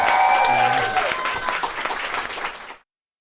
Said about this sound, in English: Can we give one more woo and round of applause for